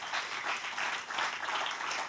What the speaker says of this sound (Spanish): Den un aplauso al Señor en esta noche.